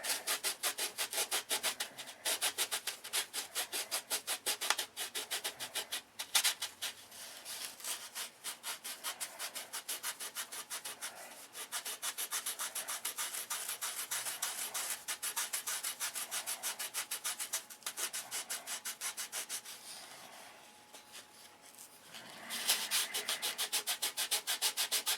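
Wood being sanded by hand with sandpaper glued to a fingertip, a rapid rhythmic rasping scrub repeating steadily at close range, briefly softening near the end before resuming.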